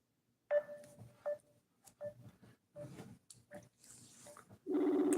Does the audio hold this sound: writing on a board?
no